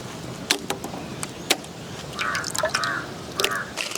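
Goat intestines being washed in water for a Tamil village blood-and-intestine fry: wet drips, splashes and squishy handling come in irregular bursts, fairly close, with faint background noise.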